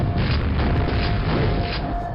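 Grenade explosion in the video game Quake, played in VR: a loud, sustained low boom and roar that fills the whole moment, dense and rumbling with no voices.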